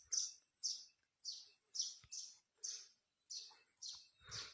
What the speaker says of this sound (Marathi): हे इथं चिमण्याचा खोपा ह्या काय कसं उडली बघा चिमणी